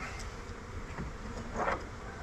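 Honey bees buzz around an 8-frame hive that keeps trying to swarm, a steady, fairly faint outdoor drone with a brief louder swell as bees pass close.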